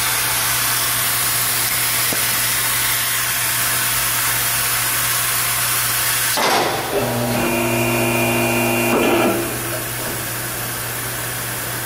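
Car lift being lowered beneath a 1969 Chevrolet Corvette in a garage, a steady hiss and hum that shifts into a release of air with whining tonal notes before settling.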